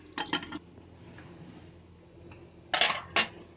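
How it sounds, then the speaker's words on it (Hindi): Arbi shimla mirch curry being served into a dish: two short clusters of metal spoon clinking against a dish, one at the start and one near the end, with quiet pauses between and no speech. "अब हम आपको ये डिश में निकाल के दिखाते हैं"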